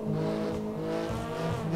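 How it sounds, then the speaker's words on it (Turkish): BMW M3 station wagon in a driving video game, engine droning steadily with rough crackling bursts from the exhaust, loud and close throughout with no talk. "Çok güzel egzoz patlatıyor."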